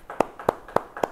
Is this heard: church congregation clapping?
yes